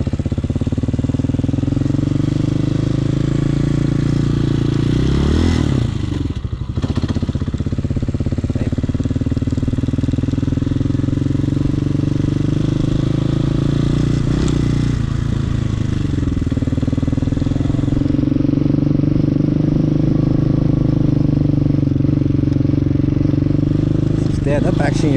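Street legal dirt bike engine held at a steady throttle, a loud continuous mid-range drone with brief dips and revs, close up and running throughout the whole stretch.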